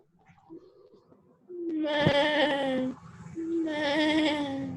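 A human voice imitates a sheep's bleat, two drawn-out wavering 'baa' calls, close and loud, after a brief quiet murmur.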